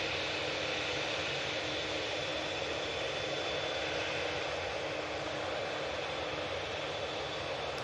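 A Virgin Atlantic Airbus A330-300 inbound from JFK on approach to Manchester Airport over Stockport, its jet engines a steady, broad roar that holds evenly throughout with no voices.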